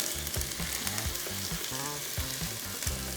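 Beef frying in a pan, a close, steady sizzle with repeated soft stirring and scraping sounds throughout and no voices.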